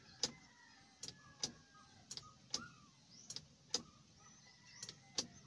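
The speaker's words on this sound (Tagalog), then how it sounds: "Yung tumutunog na lang ay yung relay" Car starter relay clicking repeatedly during a failed start, the starter solenoid and starter motor both faulty; about ten sharp, close clicks at an irregular rhythm over a quiet background, with no cranking.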